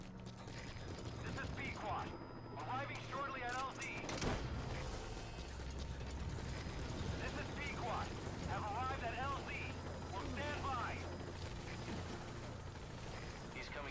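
In Metal Gear Solid V, the support helicopter arrives at the landing zone. Its rotor chop and mechanical whir play under radio voices and game sounds at a moderate, steady level.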